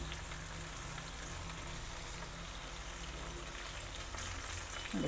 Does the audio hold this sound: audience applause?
no